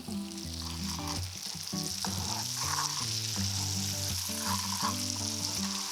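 Butter and raw sugar sizzle steadily in a hot pan while a spoon stirs them, with no talking.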